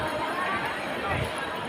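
A dense crowd of pilgrims in Ayodhya fills the air with a steady wash of overlapping voices, footsteps and bustle, close and continuous throughout.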